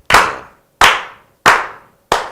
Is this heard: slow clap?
yes